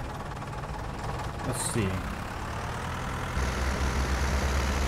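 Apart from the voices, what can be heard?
small old tractor engine idling, from a farming video game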